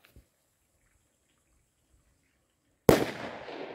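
A firecracker bomb detonating outdoors with a single sharp, loud bang after near silence, followed by a trailing crackle and reverberating hiss that fades over the next second.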